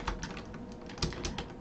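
Rapid keystrokes clatter on a computer keyboard as a project name is typed, a close, busy run of light taps with a few slightly louder presses.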